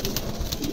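A pair of big adult pigeons coos softly in short repeated phrases against a steady background hiss, with no voices.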